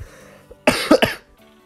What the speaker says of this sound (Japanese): 今日謎に咳が結構出ますね